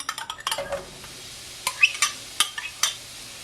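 Garlic and onion sautéing in a pan for a Caribbean crab callaloo, with clinks and scrapes of a spoon against the pan and soft sizzling, busier at the start and then in short bursts.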